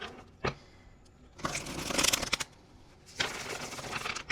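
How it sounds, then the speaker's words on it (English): Tarot cards get shuffled in two loud, close bursts of rapid papery riffling, separated by a short quiet pause and a single sharp tap. "let's give this one more shuffle"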